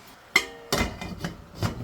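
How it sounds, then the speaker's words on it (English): Canning jars of strawberry preserves being set into a canner, several hard glassy knocks and clunks in an irregular rhythm, close and moderately loud, with no talk. "and then we're going to get them in the canner."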